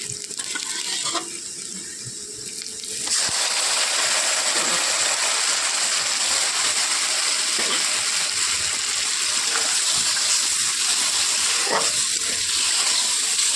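Boiled masoor lentils fry in a pan of reddened onion and spices, giving a steady close sizzle that swells after a few seconds and then holds loud and continuous with faint stirring scrapes, no talk.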